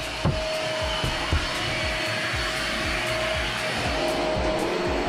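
A vacuum cleaner runs steadily inside a cabin at a snowy RV park in McCloud, a constant loud motor whine and rush with small bumps as the nozzle moves, and no voices.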